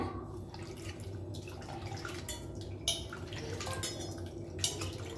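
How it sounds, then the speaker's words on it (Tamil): Soaked tamarind squeezed by hand in a bowl of water for rasam, soft wet squelching and dripping with a couple of small bowl clinks, no talking. "புளி நல்லா கரைச்சிக்கோங்க."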